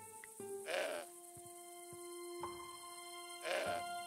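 Two distinct goat bleats in the Broken Sword 5 adventure game, each short and nasal, a few seconds apart over a quiet ambient hum with faint clicks between them.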